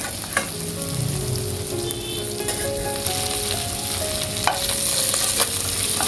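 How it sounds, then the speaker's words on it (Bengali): Fish head pieces fry in hot oil and are stirred in a pan, a dense, steady sizzle with occasional scraping knocks, close and fairly loud, no voices. "আমি আরেকটু মাছটাকে ভেজে নেব।"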